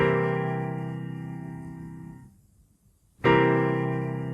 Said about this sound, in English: This is the sound of a dominant 7th chord in root position